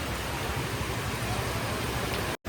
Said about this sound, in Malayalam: അടിപൊളി മഴ രാവിലെ തുടങ്ങിയ മഴ